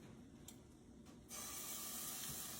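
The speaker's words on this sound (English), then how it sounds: "You should hear that sizzle." Cornmeal batter poured into a very hot cast iron skillet gives a faint hiss that suddenly swells into a steady, bright sizzle, close and quiet, with no talking.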